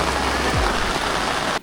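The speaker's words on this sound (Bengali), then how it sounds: "সো অনেক বৃষ্টি হয়েছিল যার কারণে আমরা মুভ করতে পারতেছিলাম না" Heavy rain pours down near Chinadi Beel wetland, a dense, steady hiss of drops drumming on surfaces, loud and close, cutting off abruptly near the end.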